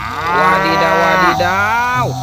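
A cow gives a loud, close moo, drawn out in one long steady call that dips in pitch partway through and drops off sharply at the end.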